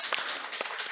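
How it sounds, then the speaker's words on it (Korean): Church congregation clapping in encouragement during a Sunday morning service: a brief, fairly close patter of many hands with a few sharper individual claps standing out. "격려 박수 하겠습니다"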